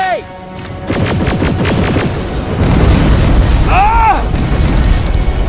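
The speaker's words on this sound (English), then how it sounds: "Rockets! They're heading this way!" Incoming rockets explode in Terminator: Resistance, a burst of loud booms and rumbling blasts stacked under shouted voices and game effects, the din swelling and staying heavy through the end.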